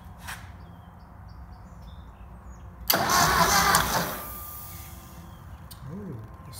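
A 1956 Ford 640 tractor engine cranks after a carburetor rebuild, a sudden loud burst of churning mechanical noise lasting about a second before it dies back into quiet, with a faint bird call at the end.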